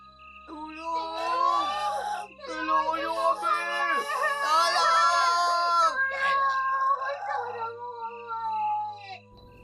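Deafening, agonised screams and wailing moans in a horror tale, several voices rising and falling in long pitched cries with brief pauses, loud and close against a low droning background.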